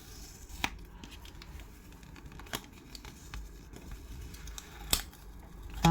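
Scrapbooking material is cut by hand at a craft table, with sparse crisp snips, rustles and small taps heard close and fairly quiet.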